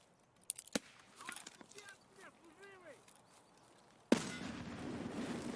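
A grenade explodes in a competitive first-person shooter match: a sudden loud, broadband blast that cuts in abruptly and leaves a sustained rumbling roar. Sharp clicks and chirping game effects come before it.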